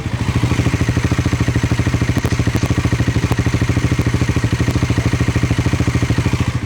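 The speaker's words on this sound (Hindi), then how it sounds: "the bike is idling eight 1500 RPM, 1200 RPM करीब पे, and idol sound is like this" A Bajaj Pulsar NS400Z motorcycle sits idling at roughly 1500 RPM, its exhaust throbbing in a loud, close, even rapid pulse that holds steady throughout, with no voices.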